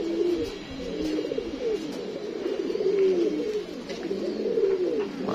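Racing pigeons at a loft during a club tournament give repeated low throaty coos, rolling and overlapping steadily at close range with no speech.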